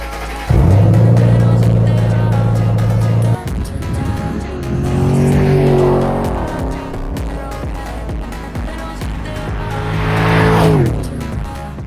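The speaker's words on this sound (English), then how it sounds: "for the car you guys have been waiting for, my 2007 Mustang GT" A 2007 Ford Mustang GT V8 revs hard several times, loud and close, each rev climbing in pitch then falling back to a rumbling idle between bursts.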